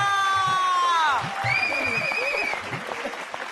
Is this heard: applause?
yes